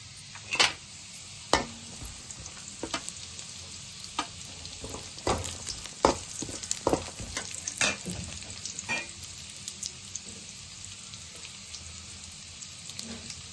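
Chilli chicken pieces sizzling in a pan, with repeated sharp scrapes and clacks of a spatula stirring through the frying over a steady crackling hiss.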